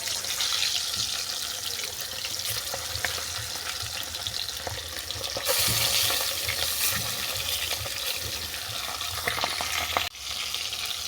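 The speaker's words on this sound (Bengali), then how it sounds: "এরপর মাছগুলো আমি উল্টো পাল্টা বাদামি করে ভেজে নেব।" Fish frying in hot mustard oil in a pan gives a loud, steady sizzle and crackle that runs unbroken for the whole stretch, with no voices over it.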